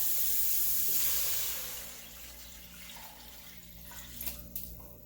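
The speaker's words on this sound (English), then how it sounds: "I'm gonna add in some water" Water pours steadily into a soup pot with a broad hiss, tapering off midway, then a few faint clinks near the end.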